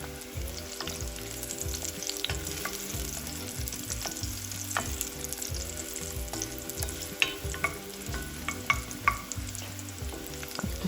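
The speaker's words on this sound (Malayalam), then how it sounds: "അപ്പോൾ ഇതൊന്ന് ഫ്രൈ ആയി കിട്ടട്ടെ." Freshly washed, chopped ingredients fry in a pan with a dense, continuous sizzle and crackle, punctuated by occasional stirring scrapes and clinks throughout.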